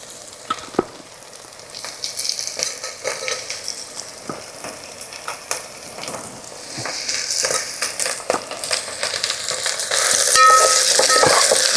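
Okra and tomato pieces sizzle in a pan of vegetables for village-style sambar rice, with a steady close hiss punctuated by stirring clicks and scrapes that grows louder toward the end.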